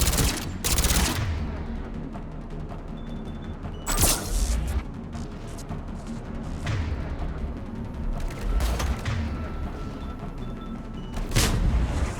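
Sustained gunfire in the video game Mass Effect 3, a steady automatic fusillade punctuated by several loud, sharp bursts spread across the stretch, with no talk over it.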